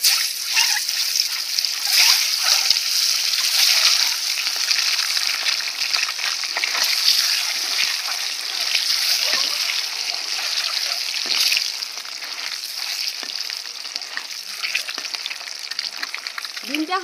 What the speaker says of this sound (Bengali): ডিমটা আমি ভেজে নেব।